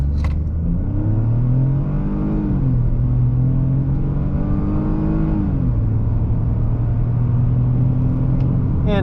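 A 2022-2023 Ford Escape SE with a three-cylinder engine accelerates at full throttle, the engine note rising through the revs, dropping at a gear change and climbing again, droning loud and close from inside the cabin.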